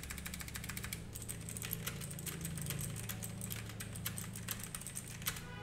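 Fast, sharp clicking keystrokes from a blue-switch mechanical keyboard, close up, in a continuous run with brief pauses.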